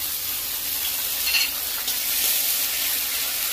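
Chopped onion and ginger-garlic-chilli paste fry in a pan with a steady, close, even sizzle. A spoon stirs briefly partway through, and no one speaks.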